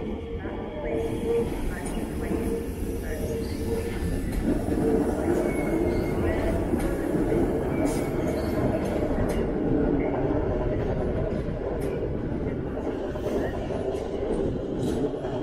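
A train pulling into Leipzig main station, a low rumble of rolling wheels that builds and holds beneath hall reverberation and brief scattered clanks.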